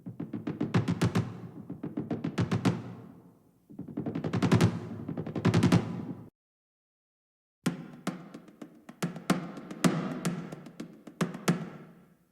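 Trailer tom drums from a sample library playing quick rolls, bursts of rapid hits that swell and stop, three separate phrases with a short silence before the last, loud and close with no voices.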